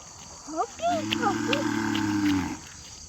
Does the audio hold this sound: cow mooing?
yes